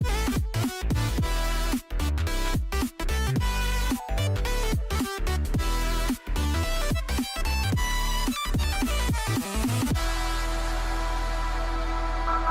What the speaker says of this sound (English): So this is also Complextro, right? This is kind of what that is.